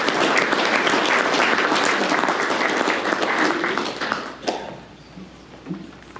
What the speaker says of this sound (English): let's give our panel of speakers a round of applause